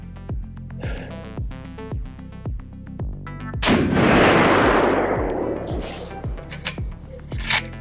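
Rifle shot fired over a chronograph during a Bulletseeker velocity test, one sharp loud blast with a long rumbling decay, set against steady rhythmic clicking and other mechanical ticks before and after.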